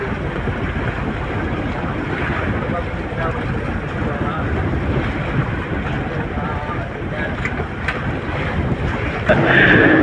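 Strong wind buffeting a small fishing boat at sea, a steady broadband roar with water wash that swells louder near the end, continuous and close with no clear talk.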